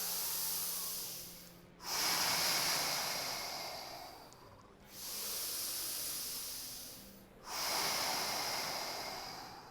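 Slow, deep breaths during a yoga class: three long, airy exhales, each cut off by a sharp inhale, recorded close and soft, with no voices.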